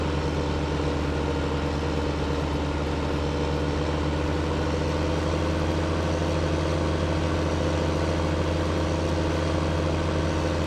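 Tractor engine idling in the video game Farming Simulator 15, a steady low droning hum with a constant pitch that holds evenly throughout and has no speech over it.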